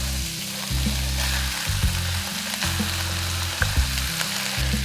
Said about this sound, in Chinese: 火不要太大，略微的翻拌一下，翻炒一下